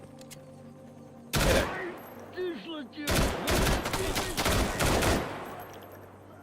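Gunfire in S.T.A.L.K.E.R. Gamma: a sudden burst of rapid automatic shots, then a second longer, denser volley of loud cracks, with a short spoken greeting in between.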